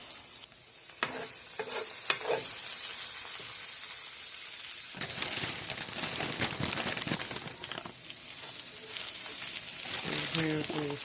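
Spinach and other food sautéing in a home kitchen pan, a continuous close sizzle broken by clattering stirs and scraping utensil clicks over about eleven seconds, with brief voices now and then.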